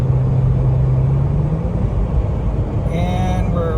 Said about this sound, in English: And so I go to press on the accelerator